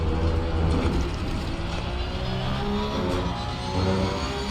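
A Porsche Cup racing car's engine roars steadily in the Assetto Corsa Competizione racing game, a loud, dense, unbroken drone with no voices.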